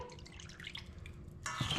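Liquid marinade pours into a dish for salmon skewers, first as soft drips and splashes, then a brief louder splashing pour at the end, close and quiet.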